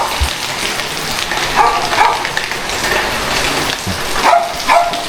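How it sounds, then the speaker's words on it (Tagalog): Steady rain falls over a construction site in Pangasinan where a PVC ceiling panel has just been fitted, a broad, even hiss with a few nearby dog barks breaking through. "Oh, umuulan."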